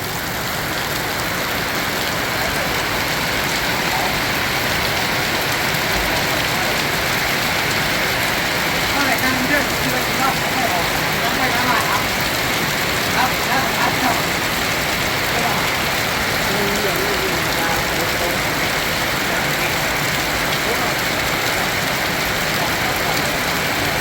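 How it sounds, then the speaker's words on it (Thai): Heavy rain pours steadily for the whole stretch, a dense and constant hiss that never lets up, with faint voices and a low rumble now and then beneath it. "วันนี้ฝนตกทั้งวันนะครับนี่"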